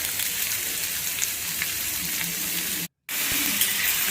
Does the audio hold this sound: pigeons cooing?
no